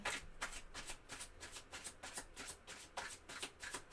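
Tarot cards being shuffled by hand close up, a steady run of crisp riffling bursts repeating about twice a second with no voices.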